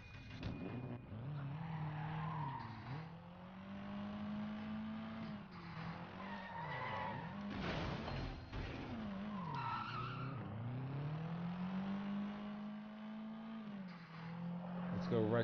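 Car in the Sleeping Dogs video game driving hard with long screeching tire skids and a revving engine, continuous and loud, with voices talking over it.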